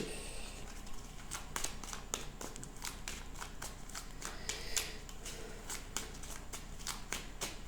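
Tarot cards are shuffled and drawn by hand. A steady, close riffle of rapid card flicks and taps runs throughout at moderate volume.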